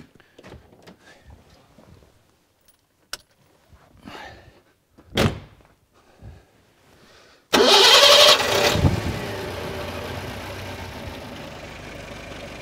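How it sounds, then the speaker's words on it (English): A car engine cranks and catches after some quiet handling noises and a door-like thump, then settles into a steady, moderately loud idle that runs alone to the end. "Now, with the engine running,"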